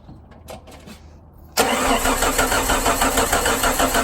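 A Jeep Wrangler engine cranks without starting: after a quiet pause, a loud, steady, rhythmic churning of the starter sets in abruptly and keeps pulsing evenly until the end.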